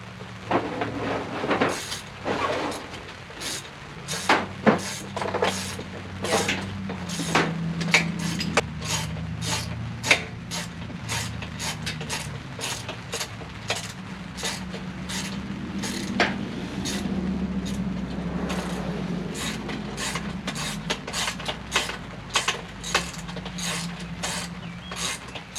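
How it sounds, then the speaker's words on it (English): A ratchet socket wrench clicks rapidly and repeatedly while a bolt is tightened on an RPS Magician 250 street-legal motorcycle, the dense ratcheting bursts running close and loud throughout. "I will get a socket to connect the other side so you can tighten it up"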